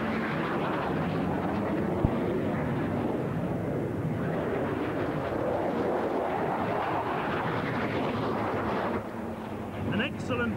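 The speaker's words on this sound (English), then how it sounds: "She's powered by a Pratt & Whitney J57 turbojet with afterburner" A carrier-based fighter jet powered by a Pratt & Whitney J57 afterburning turbojet roars past at an airshow, a loud, sustained broadband rumble that swells and fades over about ten seconds.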